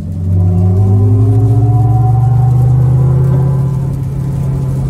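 A Hummer EV SUV electric car accelerates on a wet interstate with four-wheel drive, a loud close rumble with rising whining tones climbing steadily over several seconds, with no voices.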